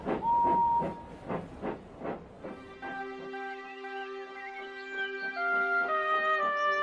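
Emily, a cartoon steam tank engine from Thomas the Tank Engine, chuffs in a steady, fairly loud rhythm of puffs. After a few seconds the chuffing gives way to sustained tonal notes, with no talking.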